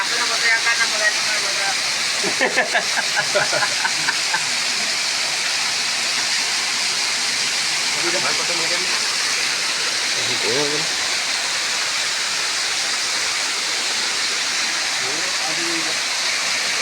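Water rushes steadily and loudly, a continuous broadband roar, with faint voices briefly audible beneath it early on.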